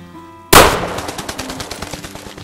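A single loud, close shotgun blast goes off during a bird hunt, cracking sharply and then echoing and rattling away over about two seconds.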